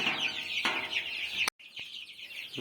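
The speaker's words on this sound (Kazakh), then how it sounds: "Балапандар мына қорада" Chicks roughly a month old call inside a coop converted from a former rabbit hutch, a dense stream of high, overlapping peeps broken by one sharp knock and a brief silent gap.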